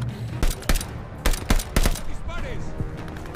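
Gunfire from the World War II shooter Call of Duty Vanguard: several sharp, loud shots and short bursts crack over a dense battle backdrop, with faint shouting in the mix.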